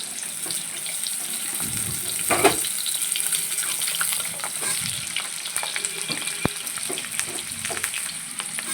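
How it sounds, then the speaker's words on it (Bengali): Potatoes frying in a pan as part of cooking chicken, a steady close sizzle with occasional clinks and stirring scrapes; no one speaks. "চিকেনের জন্য আলু ভাজছি"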